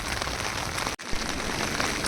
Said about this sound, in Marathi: ढग वाजल्यानंतर पाणी खूप पडते आकाशातून